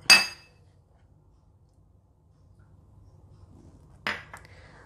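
An egg is whisked in a large bowl, heard as a sharp clink at the start, then near silence, then a second clink with a brief scrape near the end, with no talk.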